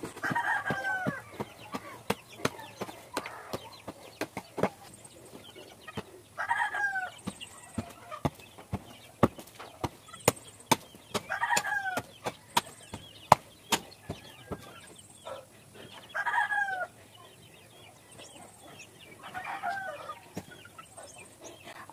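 Chickens pecking in muddy ground make short bursts of clucking every few seconds, mixed with sharp scattered tapping clicks, fairly close, with no talking.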